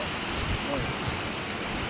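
Laxmi waterfall at Madhe Ghat, heard as a steady, broad roar of falling water with no let-up, fairly faint and slightly distant.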